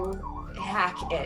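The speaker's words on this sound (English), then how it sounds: "And I apologize for the sirens." Emergency vehicle sirens wail outside a window, rising and falling in a loud, near sweep beneath a voice talking.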